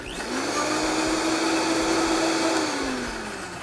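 A blender briefly whirs while beating egg yolks for hollandaise sauce, a steady loud motor drone lasting a few seconds up close before winding down.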